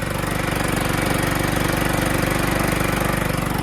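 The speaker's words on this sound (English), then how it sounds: "Riding around another free tractor. John Deere Lt160" A John Deere LT160 lawn tractor with a rebuilt Kohler Command engine runs close and loud, a steady rapid chugging putter with even pulses throughout, no voices.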